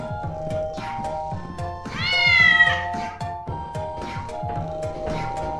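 A cat gives one long, drawn-out meow over steady rhythmic music playing in the background, with softer short sounds around it.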